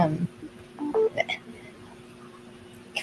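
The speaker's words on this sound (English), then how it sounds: "I don't know why my phone's making noise." A mobile phone on charge gives off short electronic tones and chirps, faint and close, with speech at the very start and longer quiet gaps after.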